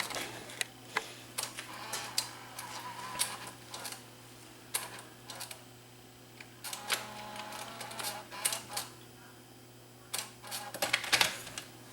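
A Panasonic SV 3500 DAT deck with a servo failure loads a tape and then ejects it, making a run of close mechanical clicks, ticks and clunks with brief whirring between them.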